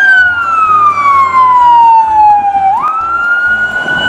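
A toy police car's electronic siren wails loudly and close, a sweeping tone that falls slowly then jumps back up, over a rhythmic buzzy beeping pattern, with no talk.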